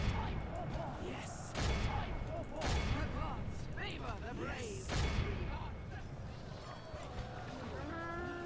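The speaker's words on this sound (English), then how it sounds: "Firing the vagina cannon for some reason." Cannon firing during a Call of Warhammer battle: several heavy booms spaced a second or two apart, buried in constant battlefield din of clatter and shouting voices.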